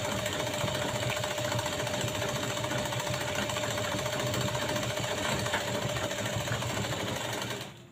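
A sewing machine runs steadily, stitching a folded strip onto a puff sleeve, giving a close, continuous mechanical whir that holds without a break for several seconds.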